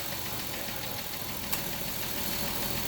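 A 2011 Jeep Wrangler 3.8L V6 idles steadily nearby, a low even engine drone with a faint rhythmic ticking running through it and one brief sharp click midway.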